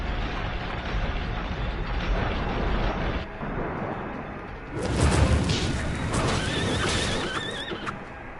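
A seahorse enemy in the video game Bloodstained: Ritual of the Night neighs like a horse, a loud whinny over rumbling game effects and hoof-like clatter, with a second whinny swelling later.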